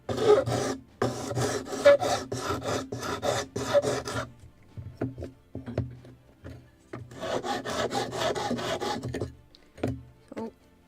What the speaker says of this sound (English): let's continue sanding.